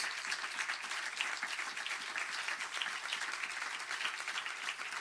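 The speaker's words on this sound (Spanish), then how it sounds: "Dele aplauso, amén, gloria a Dios." A church congregation applauds during a Spanish-language sermon, a dense, steady wash of many hands clapping at once, sustained and fairly close for the full stretch with no voices rising above it.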